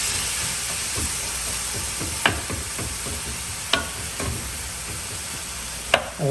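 Vegetables sizzle and hiss in hot oil as they are stirred for a shrimp and rice casserole, a steady frying crackle with a few sharp utensil clinks against the pan.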